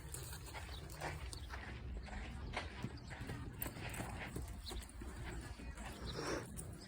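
Horses led by young handlers at a farm summer camp horse show: soft, faint hoof clip-clops over low background noise, with no clear voices.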